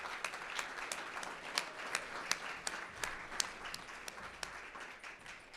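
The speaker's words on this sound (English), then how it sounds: "A round of applause to all of them for making this possible." Audience at an Impact Fund gala giving a round of applause, a steady wash of many hands clapping with a few sharper individual claps, fairly faint and even throughout.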